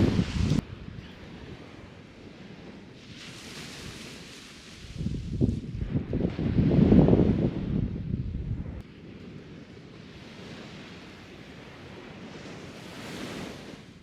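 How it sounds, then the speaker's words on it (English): Ocean waves wash onto a beach, swelling to a louder surge midway and then easing back, while wind buffets the microphone throughout; no talking. "Today we're at the beach, enjoying the waves."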